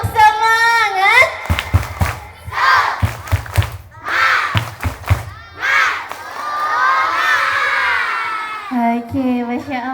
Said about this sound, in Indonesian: Sekali lagi coba. Tepuk semangat.